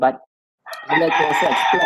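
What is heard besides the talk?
roosters crowing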